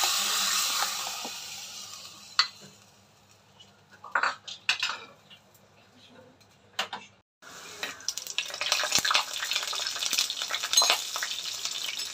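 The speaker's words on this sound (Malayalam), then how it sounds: "ആ സ്പൂണിൽ ഒരു തുള്ളി വെള്ളം ഉണ്ടായിരുന്നു, അതാ ഇങ്ങനെ പടപട പൊട്ടിത്തെറിച്ചത്" A drop of water on a spoon bursts into hot oil holding mustard-seed tempering for buttermilk, giving loud crackling spatters that fade, then utensil clinks and scraping before a steady renewed sizzle.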